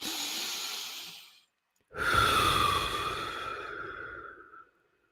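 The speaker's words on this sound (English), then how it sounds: "then just breathe a little louder." Two long, loud breaths close to the mic, a deep exhale followed after a short pause by a longer, airy breath with a slight whistle.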